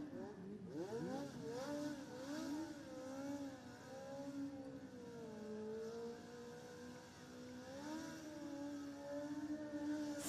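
A Legend race car does donuts on the clay infield at Lismore after winning the Australian title. Its engine drones and revs in a continuous wavering, rising and falling tone, moderately distant, with crowd and track noise underneath.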